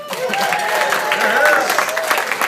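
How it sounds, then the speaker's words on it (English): Applause rises from wedding guests after a maid of honor's toast, a steady wash of clapping lasting a couple of seconds with voices chattering and calling out over it. "One more round of applause for our beautiful newcomer"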